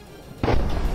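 A Russian S-300 missile explodes over a building in Zaporizhzhia: a sudden, very loud deep boom after a quieter moment, followed by a heavy rumbling roar that holds until the end.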